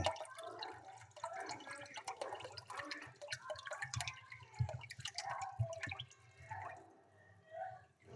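A liter of vinegar poured into a brine of 3.5 liters of water for pickling, a fairly steady splashing, trickling stream of liquid heard close up, with no talking.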